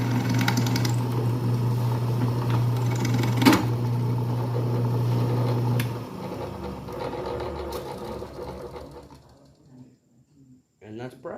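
Duracraft drill press forcing a part through an oiled hole, a steady low mechanical hum and grinding with a sharp click midway, easing off after about six seconds into quieter creaks and a few knocks.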